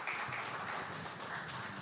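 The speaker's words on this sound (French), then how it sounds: "Applaudissements vraiment pour nos deux conférenciers" Applause from a conference audience for two speakers fills the hall, steady and fairly distant, a continuous wash of many hands clapping with no voices over it.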